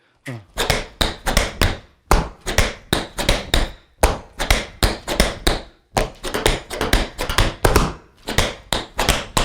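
Rapid, crisp tap shoe strikes in syncopated bursts, close and loud, with brief pauses between phrases of steps.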